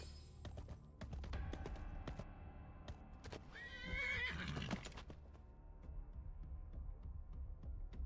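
A game horse in Watcher of Realms neighs once in a clear, rising whinny mid-clip, amid hoof clops, sharp percussive hits and a steady low rumble of game sound.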